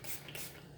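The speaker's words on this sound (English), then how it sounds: "Let me spray this down." A spray bottle sprays freshly cut apple sage soap with a quick hissing burst twice in rapid succession, close and fairly quiet, over faint background noise.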